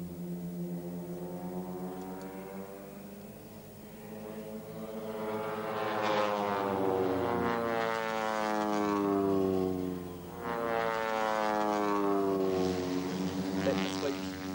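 RNZAF Red Checkers aerobatic team aircraft fly a formation manoeuvre trailing smoke, a droning harmonic propeller-engine tone that swells loud mid-pass and bends in pitch as the formation sweeps by, then fades slightly.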